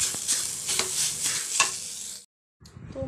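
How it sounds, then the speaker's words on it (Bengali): Spice paste with salt and turmeric fries in a pan with a close, bright sizzle and rhythmic stirring scrapes, then cuts to near silence before the sizzle returns briefly. "মশলাটাকে ভালো করে ভেজে নেওয়া হচ্ছে"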